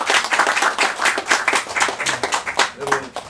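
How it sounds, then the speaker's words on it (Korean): An audience at a lecture event gives a round of applause for a district head, a brisk, steady patter of many hands clapping together throughout, fairly close and loud. "여러분 큰 박수 부탁드립니다."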